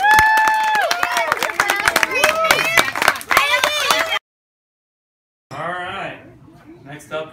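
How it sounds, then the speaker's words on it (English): Loud crowd at an end-of-season youth sports gathering for players aged 6 to 10 cheers, whoops and claps for a player, voices rising together over dense clapping, then cutting off abruptly before a shorter burst of cheering resumes. "So let's all give Branden a cheer"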